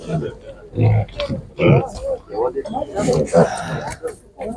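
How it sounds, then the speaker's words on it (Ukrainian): Piglets grunting close by at a market in Nadvirna, Ukraine, mixed in with someone talking over them. "Вибір дуже великий, поросят."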